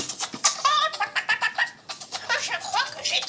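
A hen clucks in a rapid series of short, busy calls throughout, used as a sound effect in a French children's story about a gingerbread man.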